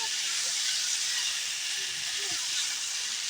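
Chicken pieces and potatoes sauté in a pan, giving a steady, even hiss of frying that holds at a moderate level from start to finish without a break.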